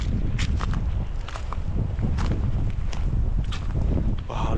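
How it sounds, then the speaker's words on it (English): Strong, gusty wind buffets the microphone on a spring hike in Switzerland, a loud continuous roar with surging gusts, mixed with footsteps crunching along the trail. "maybe you can hear it. The wind is insane."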